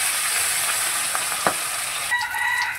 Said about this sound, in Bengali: মাছের এই পাশটাই একইভাবেই ভেজে নেব